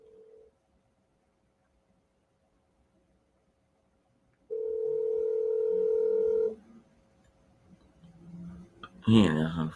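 A telephone tone sounds during a call, first a brief beep, then a steady tone lasting about two seconds, followed by a short stretch of quiet murmur before a voice starts speaking.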